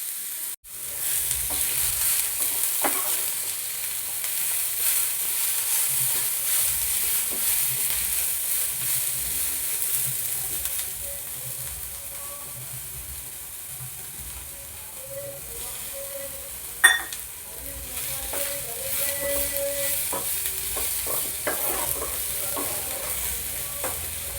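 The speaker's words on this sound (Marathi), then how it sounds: "कांद्यामध्ये थोडंसं तेल टाकून कांदा छान लालसर भाजून घ्यायचा" Onions browning in a little oil in a pan, a continuous close sizzle with repeated spoon stirring and scraping, including one sharper knock, with no talking.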